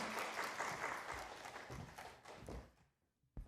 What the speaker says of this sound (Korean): 뜨겁게 다시 한번 박수로 우리 환영하겠습니다.